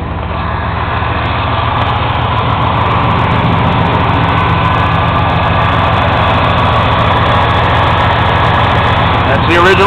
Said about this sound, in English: That's the original engine from 1992 and a 350.